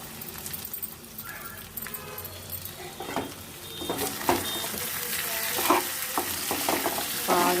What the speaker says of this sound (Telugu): చూసారా ఎంత బాగా వేగిందో చికెన్ ఫ్రై